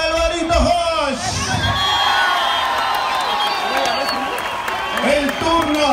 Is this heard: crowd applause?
yes